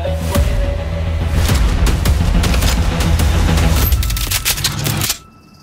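Gunfire rattles through a thriller film trailer, a dense run of rapid loud shots and bursts with booming impacts that cuts off abruptly into quiet.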